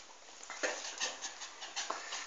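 A small female chihuahua whimpers in short, high, nasal cries repeated in quick bursts, close by and fairly soft, with no talk over them.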